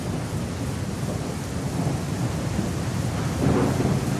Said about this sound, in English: now there's a storm